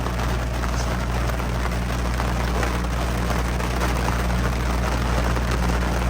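Steady rain patters continuously on a surface nearby at a campsite in Keyhole State Park, Wyoming, a dense even hiss of drops with a low background hum and no voices.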